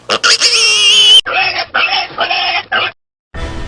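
A pig gives a series of loud, close squealing oinks and grunts in short bursts, then falls quiet before a final rough snort.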